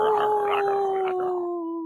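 A person imitates a wolf howl, a single sustained wavering tone held close to the microphone that slowly fades out.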